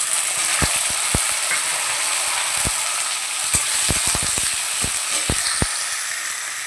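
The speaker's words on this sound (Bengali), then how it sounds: "আলু ভাজতে বসিয়ে দিয়েছি" Diced potatoes and chickpeas fry in hot oil for a vegetarian fig and chickpea curry, giving a steady, loud sizzle broken by frequent sharp pops and spatula clicks against the pan.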